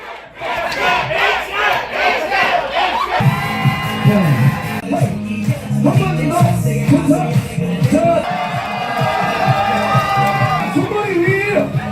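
Crowd at a small startup company's year-end party shouting and cheering loudly and continuously over pounding dance music, with voices yelling together throughout.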